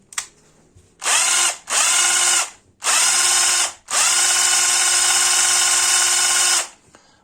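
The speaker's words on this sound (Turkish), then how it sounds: "Matkabın sesi gayet gür." A 12-volt cordless drill on a homemade battery, set to high speed, whirs loudly in three bursts, spinning up and cutting off, the last run holding steady for several seconds before stopping.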